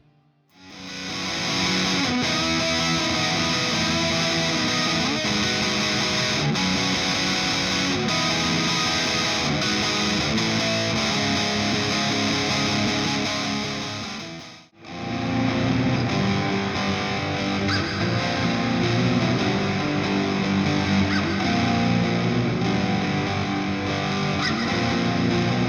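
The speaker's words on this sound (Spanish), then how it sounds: "queremos subirle el gain a nuestro amplificador o meterle un overdrive o fuzz para conseguir ese tono crujiente" An electric guitar plays through an amplifier with overdrive or fuzz, giving a thick, crunchy distorted tone that sustains loudly and continuously, briefly cutting out near the middle before resuming.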